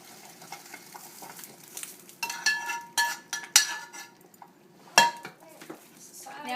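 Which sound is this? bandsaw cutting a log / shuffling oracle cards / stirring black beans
stirring black beans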